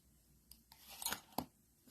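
Scissors trim the tails of a Halloween paper decoration in a few quiet, crisp snips and clicks, close and alone.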